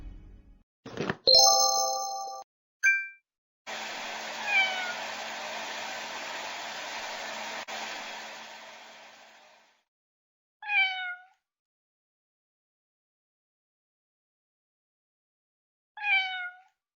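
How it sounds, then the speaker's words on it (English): Several short meows from a cold, exhausted, hungry cat being dried indoors, with a long steady blow like a hair dryer first; later two clear separate meows come close and alone amid silence. "This cat is certainly hungry, but what should we feed it?"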